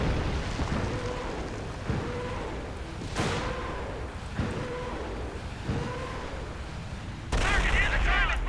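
Repeated heavy booms of artillery, rocket fire and gunfire from a World War II strategy video game, including a Nebelwerfer barrage and a strafing run, strike roughly every second over dense rumbling battle noise, growing louder and busier near the end.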